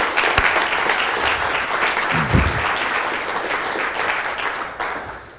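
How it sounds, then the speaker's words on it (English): An audience at a live spoken-word event breaks into sustained applause that fills the room, loud and dense, holding steady for several seconds before tapering off, with a brief voice murmuring beneath it. "give a round of applause to everybody who's put this event together and everyone that's here in this room"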